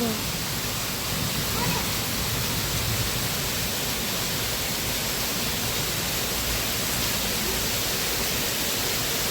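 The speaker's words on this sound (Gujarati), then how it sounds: "જો આજે છે વરસાદની 4 તારીખની ફૂલ વરસાદ શરૂ છે." Heavy monsoon rain pours down in a dense, constant roar of broadband noise, loud and unbroken throughout, with water running along a road.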